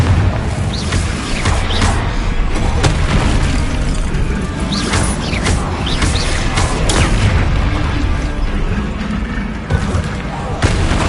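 Repeated booming blasts from the Confringo blasting spell in Hogwarts Legacy, heavy crashing explosions over a constant dense roar of combat, with a voice calling out during the fight.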